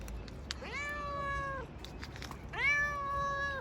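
A cat meows twice, close and clear, each call a drawn-out rising-then-falling mew, with a quiet pause between them; no talking.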